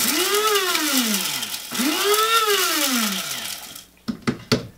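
Dried cochineal bugs whirl inside an electric grinder, the motor whining up and down through two loud spinning bursts, followed by a few sharp clicks and knocks as it stops.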